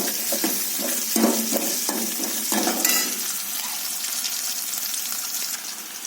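Onion, green chilli and ginger-garlic paste frying in a pan, a steady sizzle with a few short scraping stirs early on, close and alone without talk.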